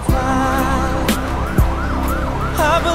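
A toy police car siren wails in a close, loud, continuous electronic warble with rising and falling tones, punctuated by a few brief thumps and a shift in pattern near the end.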